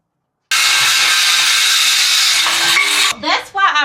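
Boards for a DIY picnic table being cut with a saw: a loud, steady stretch of cutting noise that stops abruptly, followed by a brief spoken remark.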